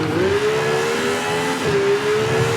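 A rally car engine in the racing game V-Rally 4 revs hard as it accelerates, holding a loud, steady rising drone with a brief dip for a gear change before it climbs again.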